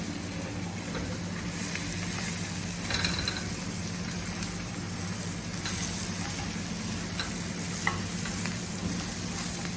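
Stuffed bharwa bhindi (okra) frying on high flame, stirred with steady scraping and a continuous sizzle, close and even throughout with occasional clicks and no talk.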